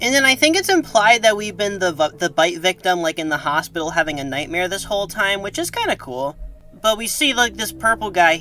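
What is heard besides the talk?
No everyday noise stands out behind the speech.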